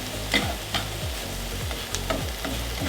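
Eggs fry in a pan, a close steady sizzle with repeated soft scraping strokes roughly every half second.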